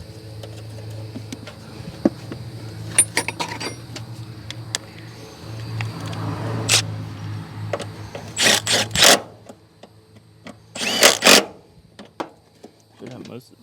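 A power tool runs in two short, loud bursts, driving two 10mm bolts to refasten the clutch reservoir on a Honda, with lighter clinks and handling noise between them.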